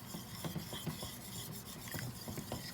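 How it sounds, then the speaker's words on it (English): A spoon scrapes and rasps against a pan while melting butter is stirred, making quiet repeated strokes in an uneven rhythm. "So we just want to give that a quick stir"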